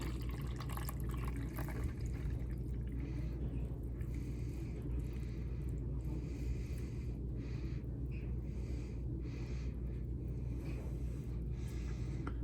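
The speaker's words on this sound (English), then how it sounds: "Carefully dump the solution through." Blue copper sulfate solution is poured through a filter and drips. A steady, quiet trickle and patter of liquid runs throughout, with faint irregular drips over a low background hum.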